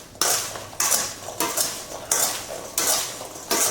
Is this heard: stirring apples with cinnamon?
yes